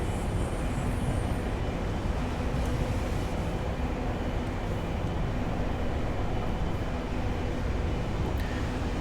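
A train in Train Simulator 2015 running on the East Coast Main Line from Newcastle to York, with a constant, dense rumble of wheels and engine at a steady level throughout, with no voices.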